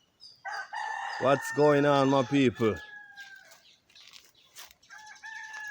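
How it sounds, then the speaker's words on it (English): A rooster crows on a farm with other birds calling in the background, a long warbling crow rising clearly mid-clip while someone talks over the start and birdsong continues faintly afterward. "there's a lot of bird in the background"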